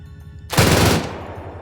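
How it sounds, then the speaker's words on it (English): A ZSU anti-aircraft gun fires in the Arma 3 game as one loud, rapid burst lasting about half a second, then a rumbling tail fades slowly. "Angel, you're taking fucking ZSU fire."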